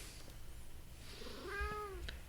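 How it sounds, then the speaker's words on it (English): A single cat meow, rising then falling in pitch, sounds fairly faint over a quiet background hum, with no talking. "I mean, it's a cat."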